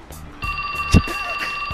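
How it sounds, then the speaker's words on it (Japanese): A bell-like mobile phone ringtone in the video game 428 Shibuya rings loudly and steadily in repeated trills, with a brief thump partway through and no talk over it. "着信音なんだこのベルみたいな。"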